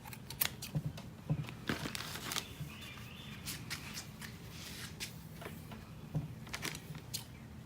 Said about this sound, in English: hubby's just cutting string